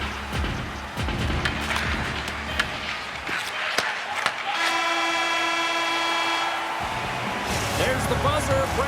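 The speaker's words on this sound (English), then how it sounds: "There's the buzzer, bringing period number 2 to a close." A hockey arena buzzer ends the second period of a Chicago Blackhawks–Utah Mammoth game, a sustained steady horn tone lasting about two seconds amid crowd noise and rink ambience, with an announcer talking over it.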